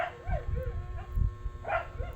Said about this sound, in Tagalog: nakikinig po siya sa ano, sa ingay ng aso sa labas